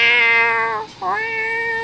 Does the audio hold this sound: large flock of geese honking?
no